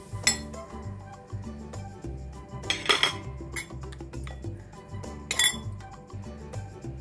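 Mixed dal flour batter is stirred with water in a bowl, with a spoon clinking and scraping against the sides in a steady repeating rhythm, punctuated by a few sharper clinks.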